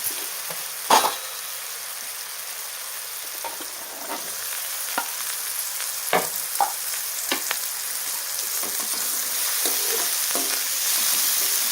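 Potatoes sautéing in a pan with tomato for a traditional Bhogi mixed vegetable dish, a steady close sizzle throughout with occasional sharp scrapes and clinks of a stirring spoon.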